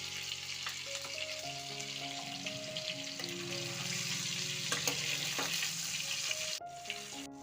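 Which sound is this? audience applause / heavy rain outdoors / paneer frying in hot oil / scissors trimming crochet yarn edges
paneer frying in hot oil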